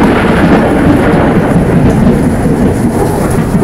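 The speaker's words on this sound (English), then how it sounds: "with some really loud thunder." Loud thunder rumbles through a thunderstorm, a heavy continuous roar filling the few seconds without pause, close and dominant with no voices.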